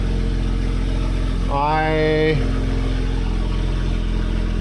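A BMW convertible idles with its top down, a steady low engine hum running throughout the clip and sounding fairly loud. A person briefly speaks over it partway through.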